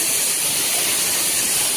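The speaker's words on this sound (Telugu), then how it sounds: "ఇదిగోండి మినీ వాటర్ ఫాల్ అంట" Water pouring at the Gandahati mini waterfall, a constant bright rushing hiss that stays even and loud from start to finish, with no voices.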